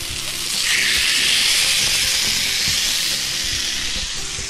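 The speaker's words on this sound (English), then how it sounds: "this I will put on my grill and cook for 10 to 15 minutes on each side" Loud, steady hiss and sizzle of marinated tuna panga cooking on a grill, continuous and close with no talking.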